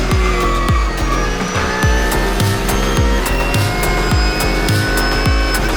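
GT race cars pull away from the grid at the start of the Barcelona 24-hour race. Loud, close engines rev hard under a steady rhythm of repeated sharp thumps, with no voices heard.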